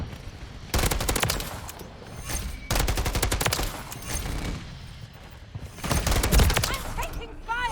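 Rapid automatic gunfire bursts in a Modern Warfare 3 match, several loud sustained volleys separated by short gaps, with a player talking faintly underneath.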